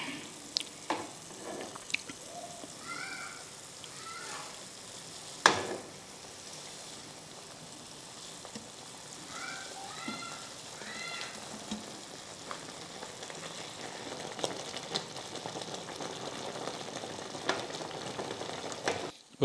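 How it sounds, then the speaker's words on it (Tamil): Oats kichadi simmers and sizzles in a pan, with a steady bubbling hiss, occasional stirring scrapes and one sharp clank, heard close with no talking. "இனிமேல் நம்ம ஓட்ஸை போட்டு வேக வச்சு எடுத்துட வேண்டியது."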